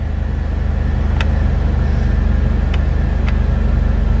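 A 2001 Jeep Wrangler engine idles steadily on a cold 35-degree Colorado morning, a loud, close, even rumble with a constant low throb and a few faint clicks, no voices.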